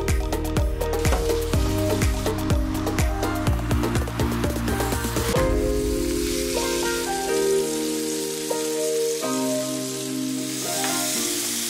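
Chicken sizzles and spits as it fries in a pan, a dense crackling hiss with clattering utensil taps near the start, steady and close without any voices.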